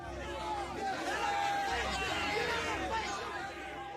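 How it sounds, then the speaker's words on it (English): Loud crowd roaring and clamoring at a temple in a video game, a dense sustained hubbub of many agitated voices filling the scene throughout without a break. "Patriarch's words can no longer be heard over the roar of the crowd."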